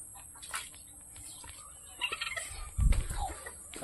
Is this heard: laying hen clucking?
yes